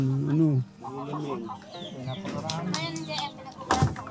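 Hens cluck in short bursts close by, mixed with a voice speaking over them.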